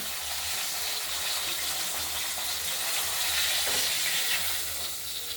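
Rohu fish head frying in hot oil in a pan, a steady broadband hiss of sizzling that holds evenly throughout without a break.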